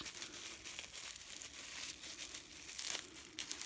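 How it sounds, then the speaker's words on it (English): Bubble wrap around a small parcel from a vintage haul is crinkled and torn open, with steady close crackling and rustling for several seconds and no voices. "if I can battle my way into the bubble wrap"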